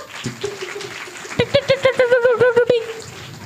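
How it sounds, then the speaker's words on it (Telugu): Children at a vacation Bible school puppet show clap together in a quick burst of roughly a dozen claps, preceded by a brief murmur of voices. "అందరు జోష్న క్లాప్స్ కొట్టండి బా."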